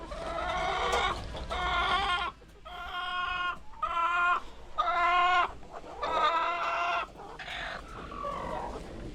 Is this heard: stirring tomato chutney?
no